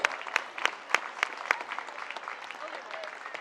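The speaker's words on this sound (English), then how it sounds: "let's have a round of applause for these senior wrestlers that represent South Summit so well" Applause at a high school wrestling meet, honoring senior wrestlers: a crowd claps with several sharp, loud claps at first, then settles into steadier, denser clapping throughout.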